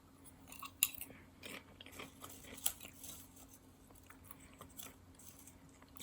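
Salty crunchy snacks being chewed close up, with irregular crisp crunches and bites, two sharper snaps standing out over a quiet steady hum, no talking.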